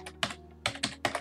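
Quick, light keystrokes on a computer keyboard, coming in short clusters of taps at an uneven pace, quiet and close, with no voice over them.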